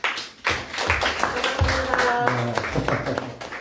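Congregation clapping during a Korean church worship service, a steady burst of applause lasting a few seconds with some voices and a musical tone mixed in.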